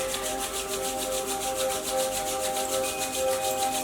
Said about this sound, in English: Taking those hands, rubbing them together,